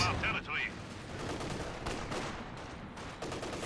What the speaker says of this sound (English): Was the Maxim, so it's a very one MG able to stop a lot of units here.